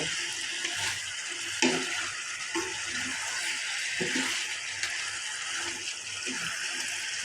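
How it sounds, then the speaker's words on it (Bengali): Chicken pieces frying in a pan for a curry, a constant hissing sizzle with intermittent scrapes and knocks of a spoon stirring the meat. "আমার মাংসটা প্রায় ভাজা হয়ে গেছে আমি আর একটু ভাজা নেব"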